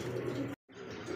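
Pigeons coo in low, throaty, continuous tones with a brief gap in the middle, among a pair of fancy breed pigeons kept for sale. The sound is close and moderately quiet, and there is no talk.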